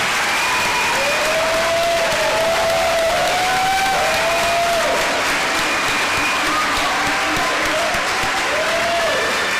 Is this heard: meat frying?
no